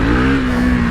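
A 2025 Husqvarna Svartpilen 401 motorcycle engine revs hard and close, a loud sustained buzzing drone with a steady pitch held through the short burst.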